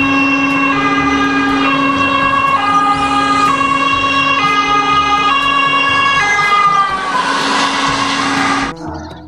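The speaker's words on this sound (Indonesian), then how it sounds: "Yang ini ada mobil ambulans." A toy ambulance plays an electronic siren loudly close by, a repeating two-tone wail with bright buzzy tones that cuts off abruptly near the end.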